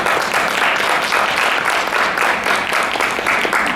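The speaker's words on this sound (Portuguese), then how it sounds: "queria uma salva de palmas" Audience applause at a cultural seminar in Mogi das Cruzes, steady dense clapping from a full room sustained throughout at strong level, with no talk over it.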